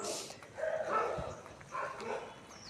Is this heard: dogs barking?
yes